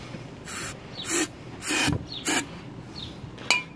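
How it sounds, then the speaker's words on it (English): Starting fluid is sprayed into an engine intake in several short, hissing bursts, separated by brief pauses and faint rubbing and handling noises at close range. "gonna get a shot of starting fluid in there"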